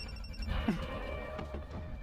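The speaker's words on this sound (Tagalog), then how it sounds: "Tubag ka na imong cellphone sa kutubakan." A cellphone ringing indoors during a Filipino TV drama, a short tone rising then fading over a low background hum, fairly quiet with no talk over it.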